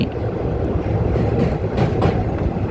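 The Hazarduari Express slows as it crosses a river bridge, giving a loud, close, continuous rumble with steady clickety-clack of wheels on rails and faint metallic squeals.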